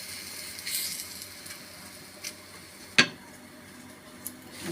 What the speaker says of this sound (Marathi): चपाती आपण तव्यावर घालून घेणार आहोत